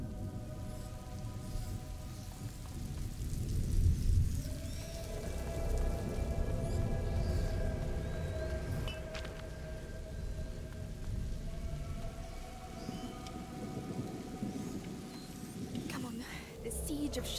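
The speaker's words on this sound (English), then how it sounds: "Lucas, Hugo, stay out of the rain." Steady rain hisses throughout a scene in the video game A Plague Tale: Innocence, with low rumbling and tonal game music layered over it and a voice speaking briefly.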